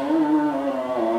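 A loudspeaker on a neighbourhood mushollah in Indonesia broadcasts a brief, sustained, tonal amplified sound with a drawn-out pitch, heard alone.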